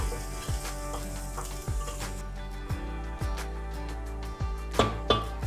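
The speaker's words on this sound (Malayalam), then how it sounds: "നമുക്കിതിലേക്ക് ഇഞ്ചി വെളുത്തുള്ളി പേസ്റ്റ് ഇടാം. അത് ചെറുതായിട്ട് ഇളക്കി കൊടുക്കാം കേട്ടോ." Ginger garlic paste frying with browned onions in a pan, a constant sizzle under repeated clinks and scrapes of stirring at an uneven rhythm, close and fairly loud.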